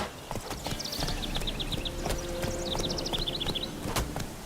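Roach the horse gallops in The Witcher 3, a steady rapid clip-clop of hooves close up, with chirping birds layered over the ambience throughout.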